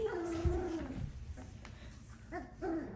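Soft, high-pitched whimpers and small whines from Doodle puppies, faint and intermittent, with a few brief yips.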